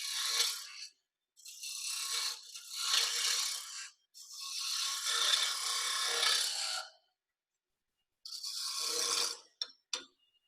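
Small hand scraper worked across wood: several bursts of dry rasping, scraping strokes lasting one to three seconds each, separated by short silences, close and fairly quiet.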